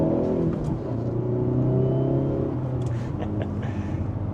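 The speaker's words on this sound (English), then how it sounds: "Little pops on the exhaust." A 2025 Hyundai Elantra N drones steadily from inside the cabin, its engine hum joined near the end by a few faint, quick exhaust pops and crackles.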